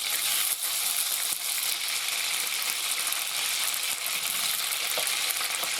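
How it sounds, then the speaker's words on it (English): Frozen butter melting in a pan of hot shortening for white milk sausage gravy sizzles and spatters loudly and steadily, a dense continuous crackle with small pops throughout. "Oh, well, that's got to melt. I'm putting that down. It's splattering on me."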